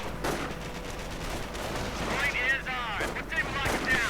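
Gunfire and suppressive rifle volleys crackle in a WWII strategy video game as Panzergrenadier infantry engage, with bursts of shots and distant explosions layered over battle noise at moderate loudness.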